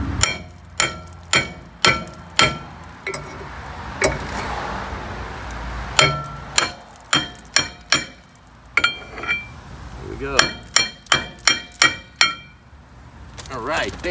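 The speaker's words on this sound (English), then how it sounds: "I'm gonna start banging away with a hammer." A hammer bangs on the rear brake drum of a 2011 Kia Soul, giving sharp metallic strikes in irregular bursts, some in quick pairs, with short pauses and background noise between them.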